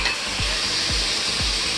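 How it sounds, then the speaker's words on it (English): Butter sizzles in a hot pan with soy sauce, a steady loud frying hiss broken by a few rhythmic stirring scrapes, with no talking. "And of course I have to put some butter in here."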